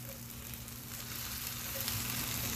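Cornmeal mush fries on a Lodge cast iron griddle over a Camp Chef Explorer stove, giving a steady, close sizzle that holds even throughout with no talking.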